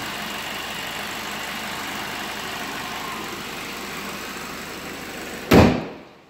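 Engine of a 2007 Ford Focus SE idling, a steady even hum close by that runs unbroken for over five seconds before a sharp thud, like a hood or door shutting, cuts it off.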